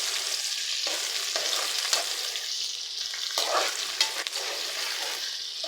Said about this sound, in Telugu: నూనె పోసి పొయ్యి అయితే వేసి ఉల్లిపాయలు పచ్చిమిరపకాయ అయితే ఉల్లిపాయలు అయితే వేస్తాం అనమాట